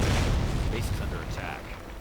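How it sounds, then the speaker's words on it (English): Artillery shells fired into an enemy base during a strategy video game battle, a dense low rumbling barrage with layered booms across two seconds, loud throughout and partly mixed with game noise. "And now, of course, just firing some artillery straight into the American base."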